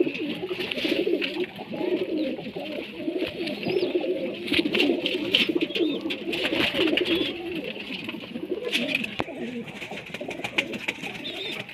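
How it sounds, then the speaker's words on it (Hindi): Golden pigeons coo steadily and close by, their low throaty calls overlapping continuously with occasional rustling and faint clicks. "ये गोल्डन कबूतर है भाईयान"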